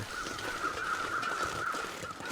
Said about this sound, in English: Oh, those are crows I was hearing.